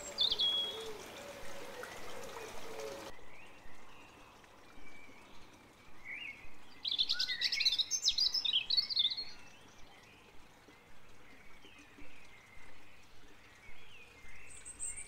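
Wild birds in a backyard chirp and call in short bursts, a busier flurry of bright notes midway, over a soft trickling background.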